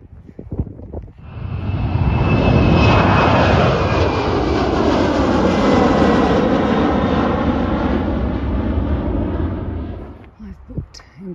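A propeller airplane flies overhead near the airport at Frankton, its engine drone swelling from quiet to a loud, sustained roar before fading away, with faint background sounds around it.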